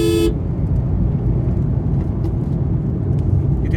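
Cars idle and creep in a highway traffic jam near a construction zone on the Hubli to Bangalore road, a steady low engine rumble close by, opening with a brief car horn toot.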